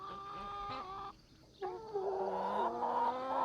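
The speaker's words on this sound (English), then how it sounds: "Got all our stew roosters out here." Stew roosters on a farm clucking and calling close by, a steady run of harmonic squawks with a short pause midway before louder, overlapping calls resume.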